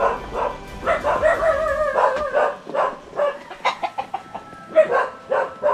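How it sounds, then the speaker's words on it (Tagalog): Domestic chickens cluck and crow repeatedly at close range on a rural farm, with occasional dog barks mixed in among the farmyard chatter. "Maraming alaging manok."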